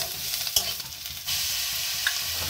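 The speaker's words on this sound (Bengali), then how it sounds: "পেঁয়াজটা হালকা করে ভেজে নিচ্ছি" Onions fry in a pan with a steady, close sizzle, broken early by a few clicks of a stirring utensil before the hiss settles and holds evenly.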